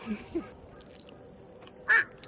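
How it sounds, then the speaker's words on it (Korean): A crow calls on snowy Gwanaksan mountain: two short caws close together, then a louder, harsher call after a pause, over quiet outdoor background. "까마귀가 이거 뺏어먹는 거 아니겠지?"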